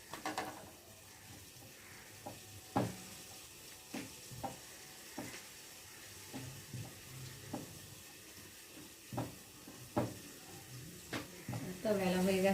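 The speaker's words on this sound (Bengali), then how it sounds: "রুটিটাকে একটু উল্টিয়ে দিই।" A roti cooking on a hot pan, with a soft steady sizzle and a series of scattered taps and clatters as it is handled and flipped; someone talks quietly over it, and louder frying sizzles near the end.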